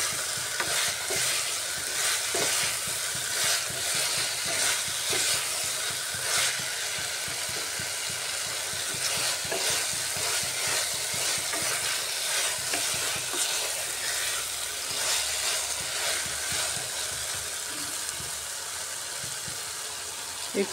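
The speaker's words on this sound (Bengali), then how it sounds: "গ্যাসের আঁচটা বাড়িয়ে ভালো করে কষিয়ে নিতে হবে চিকেনটাকে।" Chicken sautés in a pan over a raised gas flame, a loud, steady sizzle with rhythmic stirring and scraping strokes throughout, close up and without speech.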